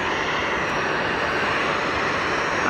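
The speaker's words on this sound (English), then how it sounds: "and EasyJet on the roll." An EasyJet jet on its takeoff roll at Geneva makes a loud, dense engine roar that stays constant and close throughout the brief moment.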